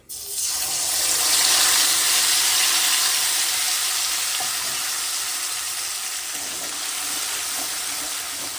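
Ginger, cumin and green chili paste hits hot oil with a loud, steady sizzle that flares up at once and hisses continuously, close by and without talk.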